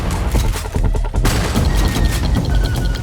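Repeated shotgun blasts and booming gunfire in the first-person shooter Redfall, loud and dense across the whole stretch, mixed with crashes and mechanical game effects.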